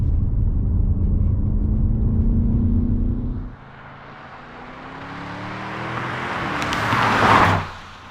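An Audi S8 driving on the road: a steady engine and tyre rumble cuts abruptly, then builds again with rising pitch to a loud peak before fading.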